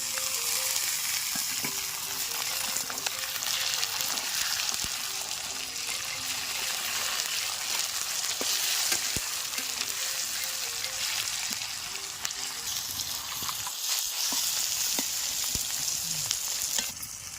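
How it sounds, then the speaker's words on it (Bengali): Spice paste with chopped tomato, garlic, ginger paste and fried onion sizzles steadily in a pan while cooking deshi chicken curry, with continuous loud frying and occasional stirring scrapes and clinks. "মশলাটা কষা হয়ে গেছে, টমেটো কুচিটা মশলার মধ্যে দিয়ে দেব।"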